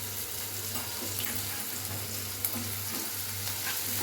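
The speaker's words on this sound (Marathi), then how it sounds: "कांद्याला पण 2 मिनिटं परतवायचं आहे" Onion and tomato sautéing in a pan as they are stirred, a steady close sizzle with soft scraping strokes of the spoon running throughout and no talking.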